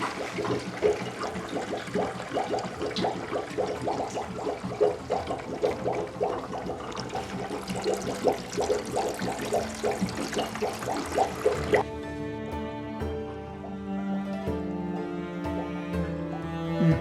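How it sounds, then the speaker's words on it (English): Water rushes steadily through newly primed aquarium plumbing in a continuous, fairly loud flow with a pulsing texture, then gives way to a smoother, more tonal sound for the last few seconds. "As soon as I hit this, the system will be primed, and if there are any leaks, I've got buckets on standby."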